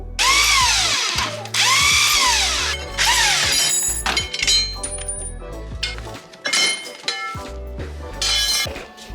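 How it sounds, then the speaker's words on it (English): A power tool whines in loud repeated bursts, rising and falling in pitch, as rusted bolts come off a flex plate during an engine install, with metallic clinks and clatter between bursts; no one speaks. "we're gonna remove the old bolts off the flex plate"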